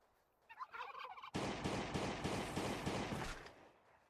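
A turkey in the Last Day on Earth: Survival game gives a short gobble, followed by a loud, rapid rattling burst that runs for a couple of seconds before fading out.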